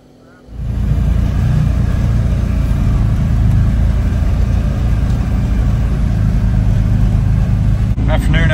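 Post pounder engine starts up and settles into a steady loud running drone that holds for several seconds, with a brief shift near the end.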